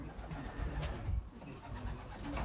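Racing pigeons in a loft, including a German-bred bird, coo softly and repeatedly at close range, with low rumbling calls and a faint hum of background noise.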